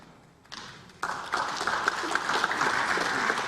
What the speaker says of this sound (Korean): 의원석에서 박수가